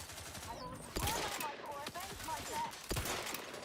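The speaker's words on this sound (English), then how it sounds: "Who's throwing grenades?" Video game gunfire and grenade blasts in a rapid, continuous burst of shots and bangs, loud and close, with faint voices underneath.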